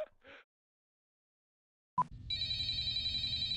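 An old-style telephone bell begins ringing after a short silence in Garry's Mod Five Nights at Freddy's, loud and continuous with a trilling pulse.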